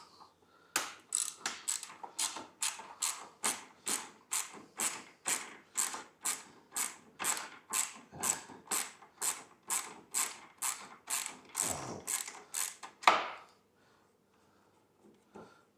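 A hand ratchet clicks in a fast, steady run of about thirty even strokes while loosening the bolts on a 3D-printed grill fitted to a BMW R1250GSA motorcycle, loud and close, ending in a single heavier clunk before quiet.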